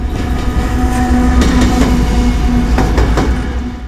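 A freight train rolls along railway tracks at a crossing, a loud steady rumble with rhythmic clickety-clack wheel impacts and faint metallic squeal throughout.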